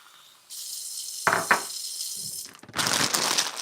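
Tap water gushing into a kitchen sink, being run until it turns hot; a steady close rush that starts abruptly, with a couple of clunks and a surge in flow near the end.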